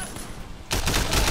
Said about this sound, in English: All right, get that assault rifle. Get wrecked!